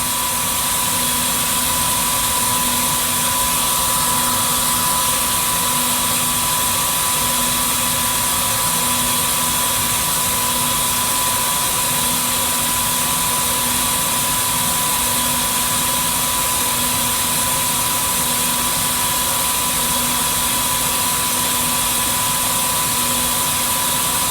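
Knitting machines making fabric in a downtown Los Angeles cotton tee factory, a steady loud mechanical drone with constant whirring and humming tones, continuous throughout with no talk.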